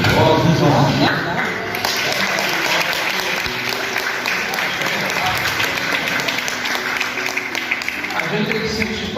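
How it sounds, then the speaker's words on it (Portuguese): Sustained applause from a church congregation at an Assembly of God service, cheering young musicians: dense, continuous clapping and crowd noise that stays loud for the whole stretch, with a voice speaking over it at times. "eu quero pedir uma salva de palmas para esses músicos jovens"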